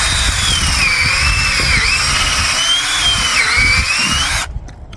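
A power drill bores into a backyard maple tree trunk to tap it for sap, a loud continuous high whine with slight pitch dips under load, close up, cutting off abruptly near the end.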